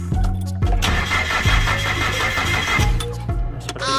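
A forklift engine is key-started on a cold winter day, cranking briefly before catching and settling into a loud, close rough idle, with a second restart attempt partway through.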